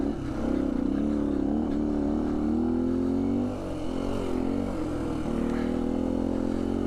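A 2019 Beta 125 RR-S dirt bike fitted with a 150cc Yamaha big bore kit riding single track, its two-stroke engine close and loud, rising and falling in pitch as the throttle opens and eases.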